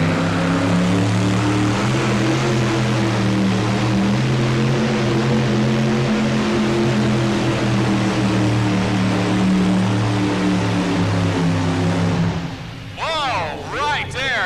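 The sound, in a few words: tractor pull engines at farm machinery show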